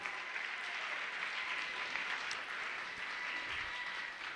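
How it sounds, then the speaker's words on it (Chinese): Warm applause for summer camp volunteers at a church Sunday service, a steady patter of many hands clapping, soft and somewhat distant, continuing evenly without voices over it. "我们用热烈的掌声给我们这群夏令营同工赞美鼓励。"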